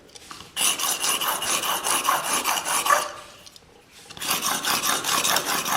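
A swept blade is rubbed in long strokes across a 400 grit sharpening plate, giving a loud rhythmic raspy scraping in two bursts with a short pause between, with no talking.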